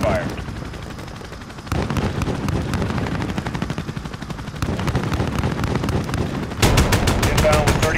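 Aircraft gun run in Modern Warfare (2019): rapid, loud bursts of automatic cannon fire that build in intensity, ending in a tight, fast-rattling stream of shots, with game voices and battle noise underneath.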